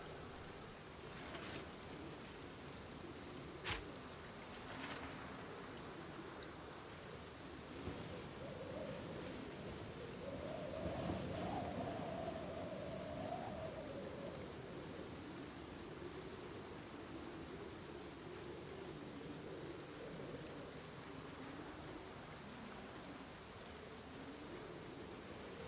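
Steady rainfall in a farming video game, a soft continuous hiss with a low rumble of thunder swelling midway, fairly quiet throughout with no talking.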